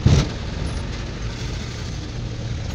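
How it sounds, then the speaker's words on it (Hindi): A car pulling into a parking spot at a market in Saudi Arabia gives a steady, close, low engine rumble with a brief louder burst at the start, and no talk. "अभी मैं भी इधर गाड़ी लगाता हूँ पार्किंग में"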